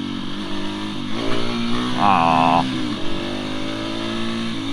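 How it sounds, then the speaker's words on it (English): A motorcycle revs hard during power wheelie practice in winter riding, its engine note rising in a loud, sustained drone with a sharp surge in the middle before settling back. "I'm practicing power wheelies on this motorcycle"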